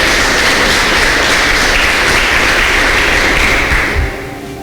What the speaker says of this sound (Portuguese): Levanta as duas mãos, porque uma é pouco, e aplaude bem forte o nome do Senhor.